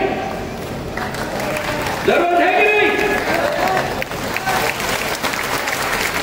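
An audience at a Jatav community conference bursts into clapping and crowd noise after a speaker asks a rousing question, the applause building under and after his voice.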